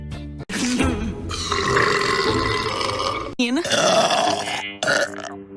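A cartoon female character lets out a series of loud, long, gurgling burps, several in a row with brief gaps and a wobbling pitch, up close and without talk.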